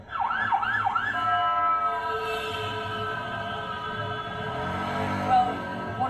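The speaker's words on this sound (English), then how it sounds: "Well, one more ambulance there passing by." An ambulance siren wails in rapid cycles, loud at first and then fading as it passes along a street in Lebanon, with a steady hum of traffic underneath.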